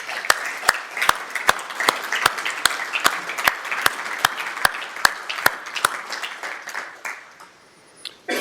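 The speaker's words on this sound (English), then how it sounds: "thank you and a big applause for the team" An audience at a Ceph storage keynote applauds the team with clear, rhythmic clapping that holds strong for several seconds, then thins out and fades toward the end.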